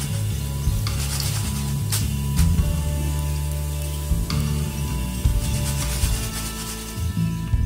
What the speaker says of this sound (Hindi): मतलब ये अच्छे से फ्राई हो चुके हैं।